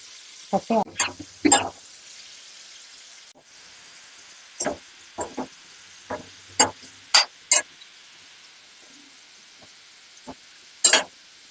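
Chopped tomato and onion fry in oil in a pan, with quiet sizzling broken by sharp bursts of crackle and stirring clatter at irregular moments.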